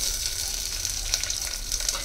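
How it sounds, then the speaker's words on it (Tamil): Chopped ivy gourd sautés in hot sesame oil, a close, steady hiss of sizzling with small crackles and pops scattered throughout, no voices over it. "கோவக்காயை இந்த நல்லெண்ணெயில் நல்லா வதக்கி எடுத்துக்கலாம்."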